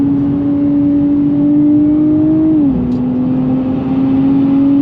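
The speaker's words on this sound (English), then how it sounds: "Getting the tires up to speed so they feel good" A 2024 Nissan Z Nismo on GTR-spec tires accelerates, its engine drone rising steadily and loud and close, then dipping briefly as the transmission shifts before the tone climbs again.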